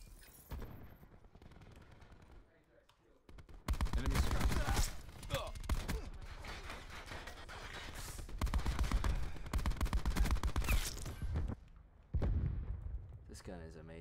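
Light machine gun fire in Black Ops 4, loud dense bursts of automatic fire with gaps between volleys, mixed with game effects and voice announcements.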